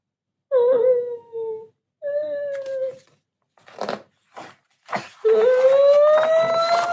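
A voice mimics a small child whimpering, a string of wavering, whiny, pitched moans with short breaks, close and fairly loud with no other talk.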